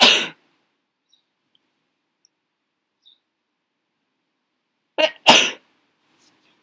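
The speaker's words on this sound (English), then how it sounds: "I'm sorry, I'm going to sneeze." A person sneezes, once at the start and then in a quick double burst near the end, loud and close with near silence between.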